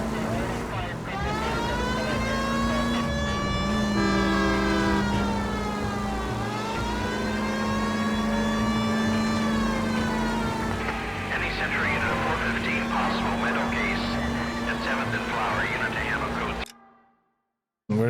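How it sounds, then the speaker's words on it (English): A police car siren in the video game L.A. Noire wails loud and steady in long rising and falling sweeps over engine hum, then cuts off abruptly near the end. "Here's a novel idea. Turn on the siren."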